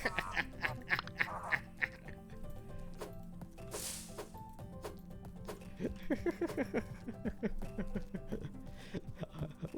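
Goose honking in a survival video game, repeated quacky calls popping out over a busy layer of game music and effects, fairly loud and close.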